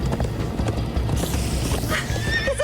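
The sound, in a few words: horses galloping and neighing in video game Minecraft: Story Mode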